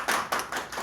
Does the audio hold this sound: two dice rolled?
no